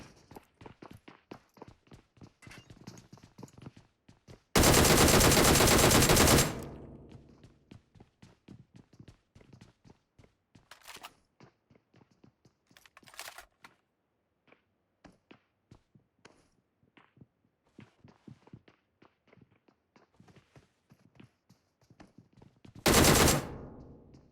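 Gunfire in PUBG Mobile, heard as rapid, evenly spaced automatic bursts and scattered single shots, with two long, loud, harsh blasts of noise and steady footstep-like ticking between them.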